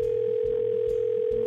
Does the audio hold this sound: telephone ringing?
yes